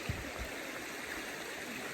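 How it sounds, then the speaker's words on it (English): A small creek flows steadily at a wilderness camp spot, making a continuous, even wash of running water with no break and no voices. "Look at this little creek."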